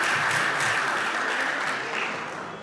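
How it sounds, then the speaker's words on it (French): An audience at a closing ceremony of a two-day scientific meeting at a medical faculty breaks into steady, dense applause for a sponsoring laboratory, loud and sustained before tapering slightly at the end. "Veuillez les applaudir."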